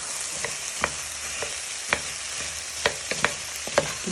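Steak pieces frying with onion and garlic in a hot pan, a continuous bright sizzle broken by several sharp clicks and scrapes of a wooden spoon breaking them up and tossing, close and with no talking.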